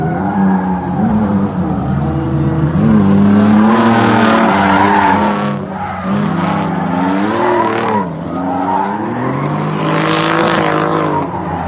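A Mitsubishi 3000GT drift car skids at a drift competition: a loud, sustained engine roar with rising and falling revs and screeching tires that runs throughout, close and dominant.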